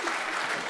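Audience applause at a mushaira poetry gathering in Kuwait, a dense burst of clapping from a sizeable crowd, loud and continuous through the brief moment.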